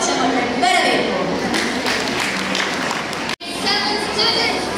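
Audience at a school cultural day applauding as a sixth-grade student comes on to dance, loud continuous clapping mixed with crowd chatter and children's voices, broken by a short dropout.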